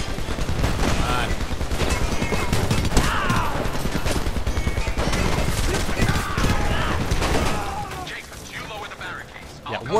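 Steady, dense gunfire fills a Homefront firefight, with overlapping rapid shots and blasts that stay loud throughout before easing near the end, while voices speak over the shooting.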